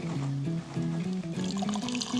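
Boiling water is poured onto dyed yarn at a yarn-store booth, a brief close pour whose gurgling pitch climbs steadily as the liquid fills.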